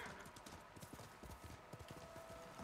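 Horse hooves clip-clopping in the video game Ghost of Tsushima, a rapid, steady gallop of hoofbeats heard fairly close over a continuous game background.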